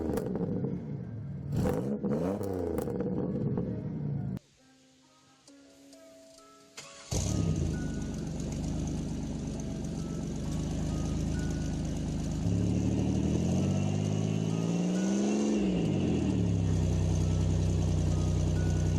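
Supercharged 3.8 liter V6 of a 1995-1999 Buick Riviera, loud and close, with a steady engine drone that briefly drops away, then returns with rising and falling revs and a sustained hum.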